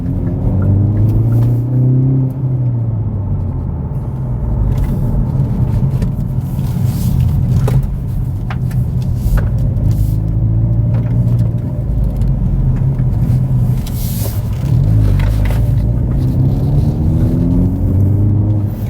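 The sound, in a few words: 2019 Hyundai Veloster N driving, loud on highway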